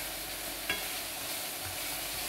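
Beef frying in a pan with a steady broadband sizzle and one brief scrape of a stir partway through; no voices.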